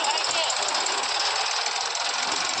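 A tractor engine runs on a rainy village road, producing a dense, steady, loud rattling drone that continues without a break.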